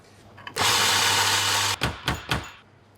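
A coffee grinder whirs loudly for about a second, grinding beans to a medium fine setting, then stops, followed by a few short bursts as it is pulsed or tapped.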